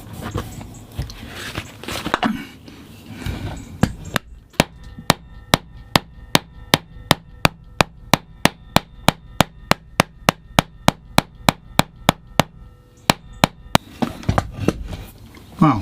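Guitar frets being hammered into a guitar neck resting on a hardwood block on a workbench, a steady run of about twenty sharp, evenly spaced taps, close and loud, framed by softer handling noise.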